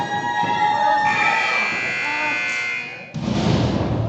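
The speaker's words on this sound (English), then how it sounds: "And there's the timer as now we await entrant number 7." A timer buzzer at a wrestling rumble signals the next entrant with a long, harsh, steady buzz of about three seconds, followed by a burst of crowd noise.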